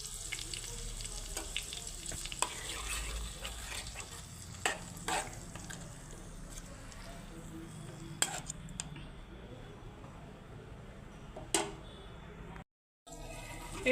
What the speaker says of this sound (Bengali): তো এখন আমি মাছগুলোকে সব দিয়ে দিচ্ছি, হাতে মাখানো মাছগুলো।